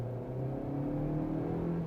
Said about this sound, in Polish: silnik nadal wchodzi na bardzo wysokie obroty i stwarza dosyć nieprzyjemne akustyczne wrażenie